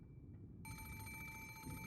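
Antique extension telephone in the Umineko video game begins ringing partway through, a steady electronic bell tone with bright sustained harmonics that continues to the end over a low background murmur.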